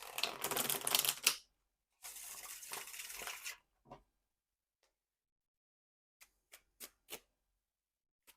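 Two bursts of brisk card shuffling, each lasting about a second, followed by a few soft, scattered taps and clicks in near silence.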